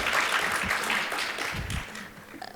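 Audience members at a panel discussion on Gaza and the Middle East peace process applaud briefly, a fairly soft wash of clapping that tapers off after a second or so.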